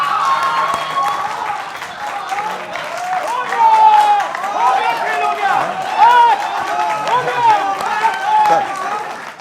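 Crowd applause from a televised Hindi poetry gathering, a broad wash of clapping and some cheering that rises and falls across several seconds, mixed with a voice talking over it.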